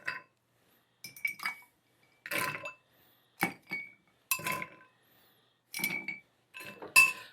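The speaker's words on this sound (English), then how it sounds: "So let's put some large ice cubes in there." Large ice cubes dropped into a cocktail shaker for a hibiscus martini, giving about eight separate bright clinks and clunks spaced across several seconds, close and clear against silence.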